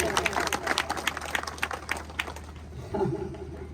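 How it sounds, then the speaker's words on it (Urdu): An audience at a religious speech event in Peerbavda breaks into loud clapping, a dense patter of many hands that thins out after a few seconds as a voice comes in. "زوردار تالیاں ہے کرن کے لیے"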